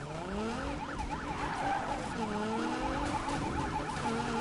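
Several police sirens wail together in Need for Speed during a cop chase, their rising and falling tones overlapping continuously over engine and tire noise throughout.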